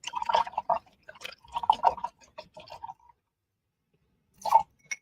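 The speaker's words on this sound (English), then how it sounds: "And I'm going to wash my brush." An acrylic paint brush is swished and tapped in a water container in short wet bursts, then a pause and a final swish, close and intimate.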